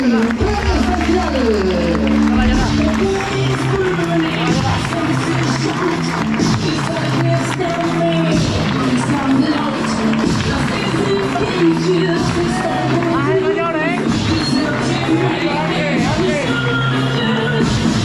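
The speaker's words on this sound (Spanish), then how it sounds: "¡Fuerte aplauso para Ángel Chávez Marín!" Crowd applause and cheering at a town road race in El Gastor, a dense, continuous wash of clapping and voices, with an announcer speaking over it throughout.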